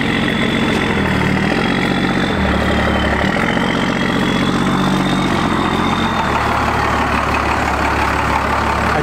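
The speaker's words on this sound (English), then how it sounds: "I do love the sound of a first gen idling," A first-generation Cummins diesel in a pickup truck idles steadily nearby with a deep, rumbling, tractor-like clatter, holding a constant loud drone with slight shifts in its low throb and no one talking over it.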